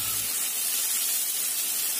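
Garlic, spice paste and spring onion hit hot oil, previously used for frying tofu, in a pan and burst into a loud, steady sizzling hiss that fills the whole moment up close without pause.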